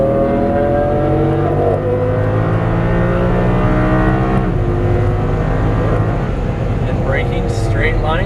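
An Audi R8 accelerates hard on a race track: a loud, close engine drone climbs in pitch, drops briefly as it shifts, then keeps pulling, with a voice talking over it.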